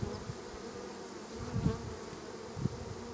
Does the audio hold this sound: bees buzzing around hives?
yes